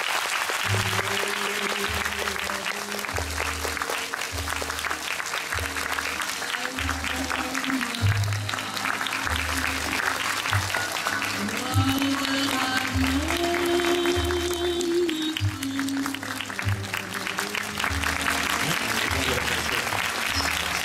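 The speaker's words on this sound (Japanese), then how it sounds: "皆さん、ケイトブランチェットさん、そして寺島さんに大きな拍手をお願いします。" An audience applauds Cate Blanchett and Terashima at a Japanese promotional event for Carol, sustained clapping running throughout alongside steady rhythmic music and low pulsing beats.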